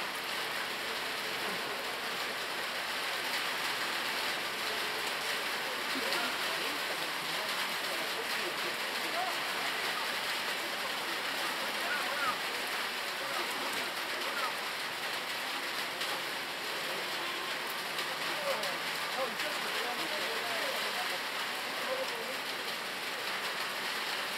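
Steady rain falls on an outdoor rugby match, the ARUCO bronze final between Los Troncos and Pangue UBB, making a constant soft, even hiss that lasts throughout.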